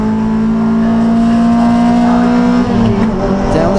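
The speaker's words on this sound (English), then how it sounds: "Down the straight he goes, up through the gears." Toyota MR2 race car at a Silverstone championship race accelerating hard up through the gears, a loud continuous engine roar with rising pitch and shift changes, close and steady throughout.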